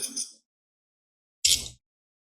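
Scissors cut through a small piece of fabric for a craft project, two short crisp snips separated by a pause of silence.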